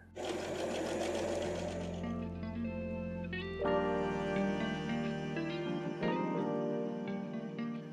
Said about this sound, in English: that's the front panel, which I can now sew onto the back